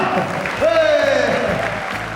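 An audience applauds loudly at a 2001 comedy show in Bercy, a broad wash of clapping that stays steady for about two seconds, with a voice and a tonal sound rising above it.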